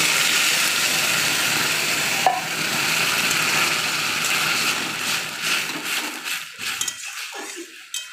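Garlic and chili frying in oil in a pan, a steady hissing sizzle with spatula scrapes and clinks that thins out toward the end into scattered knocks.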